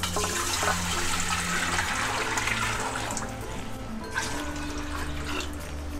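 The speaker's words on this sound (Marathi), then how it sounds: "हे 1 टोप पाणी आणि 1 ग्लास एक्स्ट्रा टाकले" Water poured from a pot into a cooking pot for ragi papad dough, a steady rushing splash throughout at close range that eases slightly partway, with no speech.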